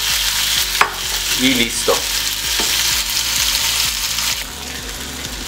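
Chicken pieces seasoned with pepper fry to golden in a pan, giving a steady broadband sizzle throughout with occasional stirring clinks and scrapes, close and fairly loud; a voice briefly speaks near the end.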